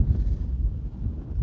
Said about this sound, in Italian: nonostante il mare e il vento forte che increspano le onde persino all'interno del porto